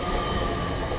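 A loud, continuous rumble of a train arriving at a station for a King's Cross service, a dense roar filling the space with no clear breaks.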